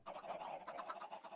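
Chickens in a Minecraft egg farm cluck in a short burst of rapid squawks, fairly loud and close, with no talk over them.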